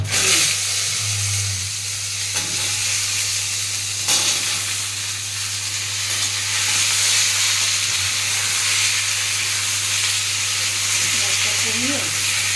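Mango pieces hit hot oil with five-spice and chilli in a home kitchen, a steady loud sizzle and hiss that carries on alongside a low hum, with occasional stirring and voices speaking.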